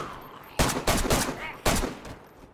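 Gunfire in the video game DayZ: four sharp, loud shots in quick succession, with three close together and a fourth after a short pause, each trailing off with a brief echo.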